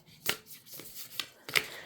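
Oracle and tarot cards being shuffled by hand, giving four soft papery riffle bursts spaced roughly half a second apart, close and quiet, with no talking.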